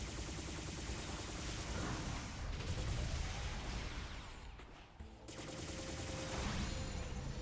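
Enemies firing missiles in P.N.03, a dense, continuous barrage of loud blasts and gunfire-like bursts that roars on for several seconds, briefly dipping midway before surging again.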